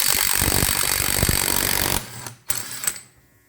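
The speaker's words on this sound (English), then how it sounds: "hopefully this impact is strong enough. I got a 30mm nut here." An impact wrench hammers at a 30mm nut on a Yamaha Vmax 1200 engine during case splitting, a loud continuous rattling burst for about two seconds, then two short quieter blips before it stops.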